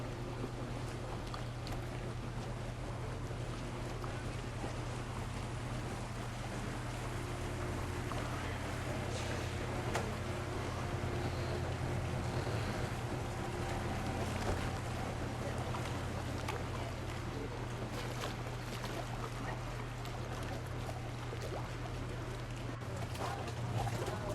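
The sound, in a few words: boats on a Venice canal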